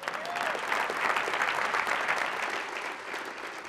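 Audience applause at a charity awards gala, a sustained burst of clapping from a crowd that fills the room and tapers slightly toward the end.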